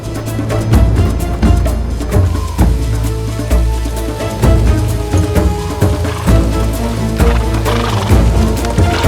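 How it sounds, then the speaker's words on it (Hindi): Horses neigh and whinny over steady clip-clopping hooves in a loud, dense scene from a historical drama, the galloping and calls continuing throughout with a layered, busy background. "घोड़े लेकर आओ।"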